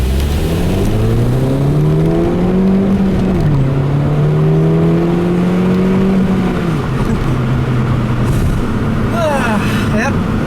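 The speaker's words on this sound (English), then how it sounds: "I'll leave you guys with a nice little acceleration, like I always do" A car engine accelerating hard on the road, its rising drone climbing through the gears with a couple of clear shifts and dips. It is loud and close throughout.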